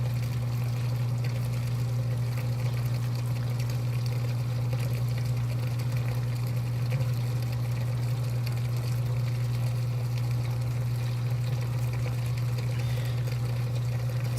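A washing machine drains its water: a steady, loud pump hum runs under a continuous rush of flowing water, unbroken throughout.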